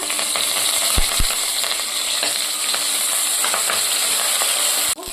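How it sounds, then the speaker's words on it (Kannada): Mustard seeds, green chillies, grated ginger and curry leaves sizzle in hot oil for a tempering, making a loud, dense, continuous hiss close by, with a couple of sharp clinks near the start. "ಸಾಸಿವೆ ಸಿಡಿದ ನಂತರ ನಾವು ಹಸಿಮೆಣಸಿಕಾಯನ್ನ ಹಾಕೊಳ್ಳೋಣ"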